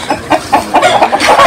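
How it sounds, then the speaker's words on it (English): Chickens clucking on a natural farm, with several short, close clucks and squawks repeating in an irregular, busy rhythm. "Let's go to see the chicken."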